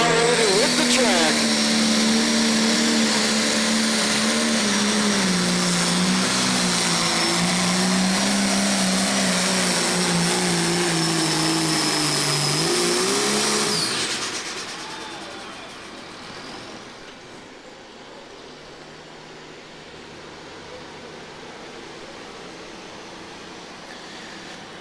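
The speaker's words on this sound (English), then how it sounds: "Wild Buck starts to spool. The massive turbocharger under the hood, over 100 pounds of boost, and massive RPM about ready to hit the track." A massively turbocharged tractor-pulling vehicle, Wild Buck, running over 100 pounds of boost at a county fair pull: a loud, sustained turbo whine and engine roar with rising and falling revs that cuts off sharply, leaving a quieter, distant crowd and engine hum.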